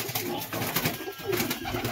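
Andhra pigeons in a loft with young birds, giving a soft, steady cooing close by over a busy rustling background, with no voices.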